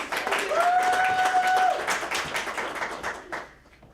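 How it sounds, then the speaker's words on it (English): Kids and teens at a winter movie-making camp clap for Kai, a lively burst of many hands with a brief whistle-like tone early on, loud at first and tapering off into near silence by the end. "Big round of applause for Kai, please."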